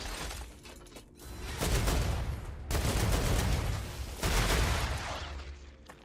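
Gunfire in the StarRupture video game comes as rapid, dense volleys of shots in a few sustained bursts, loud and continuous with short lulls between.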